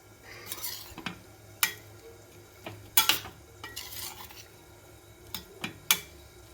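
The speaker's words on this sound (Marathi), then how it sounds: "तर कोथिंबीर घातल्यानंतर मिक्स करून घेऊया." A spoon scrapes and clatters against a pan while stirring a sprouted-legume mixed vegetable curry with chopped coriander, giving irregular metallic clinks and scrapes over a faint sizzle, with no talking.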